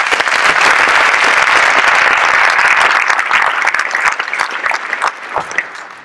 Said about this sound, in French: Et je crois que nous pouvons également les applaudir.